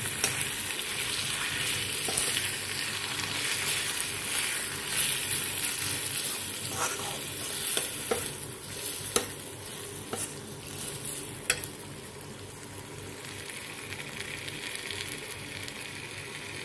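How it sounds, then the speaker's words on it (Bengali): Fresh chhana (paneer) is stirred gently in a pan over very low heat, with a soft, steady frying hiss and scattered light scrapes and taps from the spatula. No one speaks. "ছানাটা অ্যাড করার পর এটা একটুখানি হালকা হাতে নাড়াচাড়া করে নেব।"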